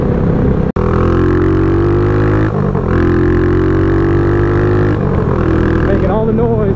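A Suzuki GN400 bobber motorcycle's single-cylinder engine revs loudly up close, holding a steady buzzing drone with a few throttle swells and one brief sharp break, a voice speaking over it.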